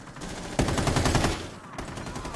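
Rapid automatic gunfire in Rainbow Six Siege crackles in a dense burst of about a second of closely spaced shots, loud and near, followed by quieter game ambience.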